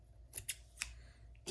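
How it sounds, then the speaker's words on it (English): Scissors snip thread during a Kenmore embroidery sewing machine repair, with three or four quick, crisp cuts spaced irregularly over a quiet background and no talking. "Get my scissors if I can. We'll cut it."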